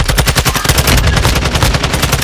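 Loud, rapid gunfire from a Warzone 2 video game match: dense back-to-back shots crackle continuously without a pause, with no voices.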